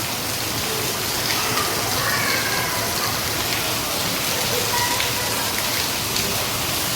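Steady rain falling in a rural village, a dense, continuous hiss and patter that holds even from start to finish with no voices.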